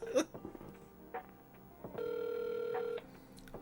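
A telephone rings on a transferred call to a brewery office, the steady tone sounding for about a second alongside a faint line hum, with people talking briefly before it.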